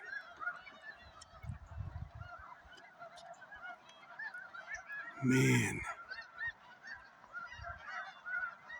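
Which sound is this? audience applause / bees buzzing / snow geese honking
snow geese honking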